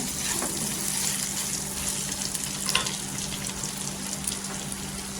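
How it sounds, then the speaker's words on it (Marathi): Red chili powder, coriander powder and other spices sautéing in hot oil for a spicy brinjal dish, a steady close sizzle with scraping stirs and a few brief clinks, no talking. "मसाले टाकल्यानंतर परतून घ्या."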